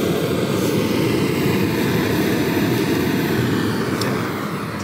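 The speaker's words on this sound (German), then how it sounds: "wir drehen den Brenner auf Vollgas, dass man da nichts falsch machen kann." A gas burner turned up to full throttle roars in a steady, loud, continuous broadband rush while heating a sheet-metal panel, with no pauses or other sounds.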